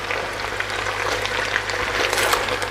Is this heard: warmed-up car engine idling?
no